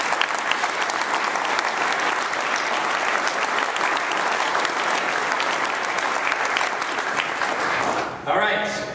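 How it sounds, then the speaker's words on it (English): Dense, loud applause from an audience at a benefit dinner fills about eight seconds steadily, then cuts off sharply near the end, with a few voices under the clapping. "I want you all to give yourselves a big round of applause for that"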